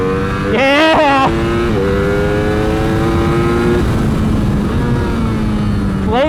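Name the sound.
Ducati Streetfighter V4S motorcycle accelerating, popping a wheelie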